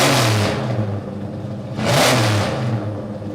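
A powerful V8 muscle car engine roars and revs twice, surging loudly and dropping back between bursts, up close and with no voices.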